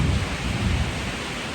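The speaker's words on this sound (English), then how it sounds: "She's thundering and lightning and raining." A loud thunderstorm with heavy rain pouring down and a deep, continuous rumble of thunder rolling through the whole stretch, close and full, with no one speaking.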